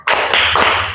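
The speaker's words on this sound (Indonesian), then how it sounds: "Kita tepuk semangat dulu ya" A group claps out the Indonesian 'tepuk semangat' spirit clap, a dense burst of many hands sounding together and fairly close throughout a short moment, without speech.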